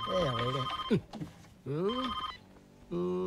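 A telephone rings in a Telugu movie scene, the Jalsa film, with repeated electronic ring bursts separated by short pauses.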